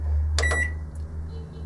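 Beeps from a microwave and convection oven's control panel, a couple of short tones over a steady low appliance hum.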